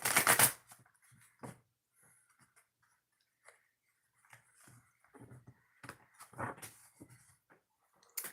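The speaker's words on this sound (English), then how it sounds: "One more shuffle, then we'll start." A brisk riffle of oracle cards at the start, followed by softer, intermittent shuffling and handling sounds with quiet gaps.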